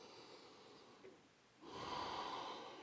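A deep, noisy inhale through the nose during a yoga session for runners, heard close up. It starts after a quieter stretch and swells into a long, steady breath that fades at the end.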